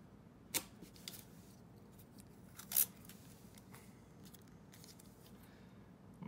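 Scissors snip paper on a planner page, a few sharp crisp cuts with quiet rustling between them, near and isolated with no talking.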